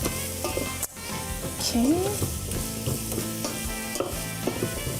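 Onions, carrot, garlic and tofu fry and sizzle in a pan with smoked paprika for a chili, a steady close crackle with stirring scrapes throughout and a brief spoken word.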